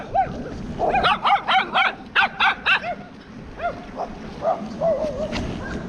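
A string of loud, rhythmic barks from nearby dogs, about a dozen in quick succession, fading to scattered, fainter barks afterward.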